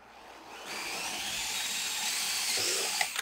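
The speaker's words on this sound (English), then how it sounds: "I'm going to drill a hole in it." A power drill bores a hole through a rounded-edge piece of wood for a camper van bed frame and kitchen build, giving a steady, close, high-pitched whine for about two and a half seconds before it stops abruptly.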